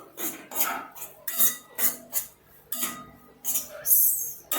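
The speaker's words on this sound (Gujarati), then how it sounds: "આપણે હવે લોટ નાખી દઈશું અને લોટને જ્યાં સુધી શેકાય નહીં ત્યાં સુધી એને આપણે હલાવતા રહીશું" A utensil scrapes and stirs rhythmically through flour roasting in ghee in a pan, producing a close, repeated series of gritty strokes with no talking.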